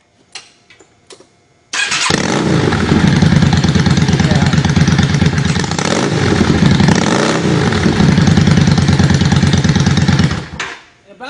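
A motorcycle engine cranks briefly, catches and starts, then settles into a loud, steady idle with slight surges before shutting off near the end.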